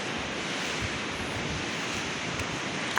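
A mountain stream runs below a hill trail between Madegaun and Lalu. It gives a steady, broad rushing roar that stays constant throughout, fairly loud and unbroken, with a light wind-like hiss and no voices.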